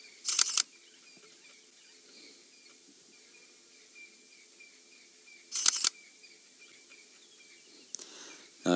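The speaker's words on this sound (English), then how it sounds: "it does have a very loud shutter noise" Two loud bursts of rapid camera shutter clicks ring out close by, with one more snap at the very end, all over quiet bush ambience with faint insects and birds during a safari game drive.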